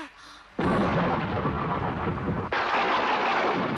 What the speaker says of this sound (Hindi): बिजली चमक रही है। बादल भी गरज रहे हैं।